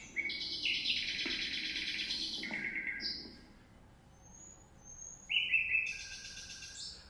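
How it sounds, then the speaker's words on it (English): Live birds singing outdoors, their calls sampled and played back through instruments, producing bright sustained chirps and warbling phrases that start, pause briefly and return, moderately loud with a faint background hiss and no talking. "You can sample the birds live and see how they respond."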